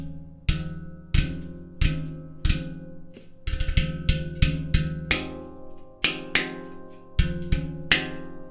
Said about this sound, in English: The bassy sound with your fist.